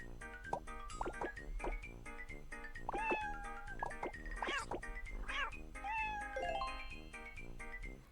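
Cartoonish cat meows from the mobile puzzle game Block Cat Jam, several short meows in quick succession over steady repetitive background music, with no talking.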